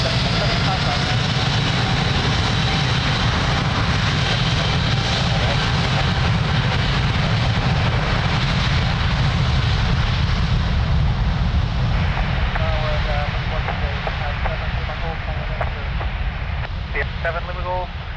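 Airliner taking off from runway 02 at Lisbon Airport, its engines a loud, sustained roar heard from a distance, with radio voices talking over it.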